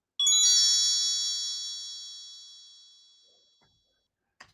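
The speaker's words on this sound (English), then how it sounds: "Oh, and I hear the chimes." A bright video-game chime rings out once from an indie title, a clear harmonic tone that rings and slowly fades over several seconds, followed by a faint click at the end, with no talking over it.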